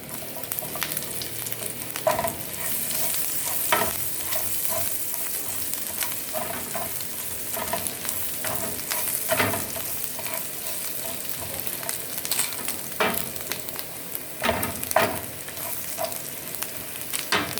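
Garlic sizzling steadily in hot oil in a pan, with a spoon or spatula scraping and clinking against the metal at irregular intervals, close and fairly loud, no voices.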